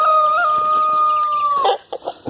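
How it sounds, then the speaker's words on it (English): A rooster crows once, a loud close drawn-out call lasting over a second, followed by a few short clucks from the flock. "I got too many roosters."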